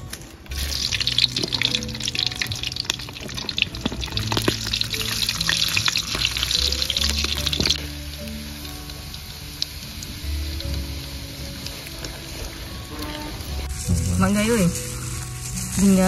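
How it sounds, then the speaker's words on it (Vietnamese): Sausages frying in a pan while making giant sausage sandwiches, a steady loud sizzle running throughout with occasional clinks and stirring, easing somewhat partway through before a brief burst of louder kitchen handling near the end. "lại chiên xúc xích"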